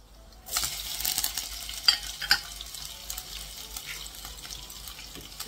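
Curry leaves and green chilies frying in hot oil for a poha pulao, a steady sizzle with scattered crackles and a few sharp pops around the middle, stirred now and then, close and fairly quiet.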